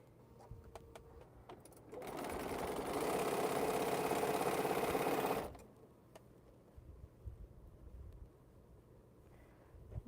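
A sewing machine runs in a single steady burst of about three and a half seconds while stitching quilt block pieces, loud and continuous, framed by quiet room sounds and faint clicks before and after.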